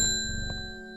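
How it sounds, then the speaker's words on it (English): A single bell rung in the video game Strange Horticulture: one clear metallic ding with a bright attack and a long, steady ringing decay, heard alone and fairly close. "Okay, kitty, I gotta ring the bell."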